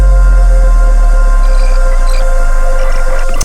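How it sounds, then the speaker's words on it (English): Ambient loop sample from a Cymatics pack, a steady layered drone of sustained tones over a deep low hum, loud and unbroken, with faint sparkling texture drifting on top and no voices. "This is an ambient loop from cymatics."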